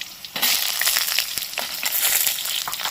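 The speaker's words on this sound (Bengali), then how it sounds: "আলু ডুমো ডুমো করে কেটে নিয়েছে দেখো আলুগুলোকে ভেজে নিতে হবে" Diced potatoes hit hot oil in a pan, a sudden loud crackling sizzle that starts a moment in and keeps up with sharp pops and spatters, close by and with no talking.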